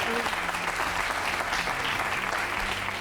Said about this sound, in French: je voudrais qu'on vous applaudisse, madame